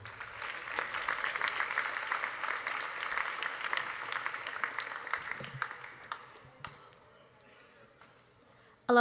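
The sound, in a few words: audience applause for a student speaker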